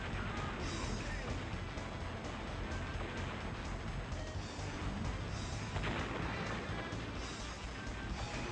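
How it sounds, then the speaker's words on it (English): Missiles firing and exploding in the N64 game Chopper Attack make a dense, constant barrage of blasts and rumbling noise with no pause, loud and continuous throughout. "Used a lot of missiles."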